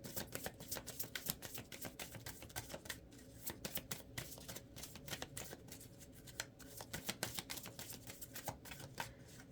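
A stiff deck of tarot cards being shuffled close by, a quiet, continuous run of rapid riffling clicks and flutters.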